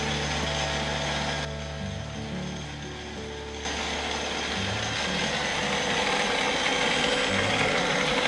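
A stand mixer runs on low speed working a wet sourdough, a steady mechanical whir and rhythmic gear clatter that eases briefly before picking back up, with no talking.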